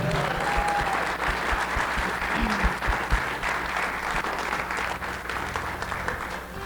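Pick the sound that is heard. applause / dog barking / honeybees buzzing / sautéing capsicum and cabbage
applause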